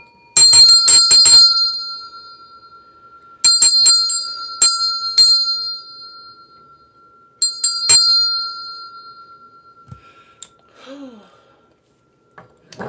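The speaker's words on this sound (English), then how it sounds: "ring that bell" A bell rings out loud and close during a tarot podcast show, struck in quick clusters of sharp rings separated by short pauses, with a few faint sounds trailing off at the end.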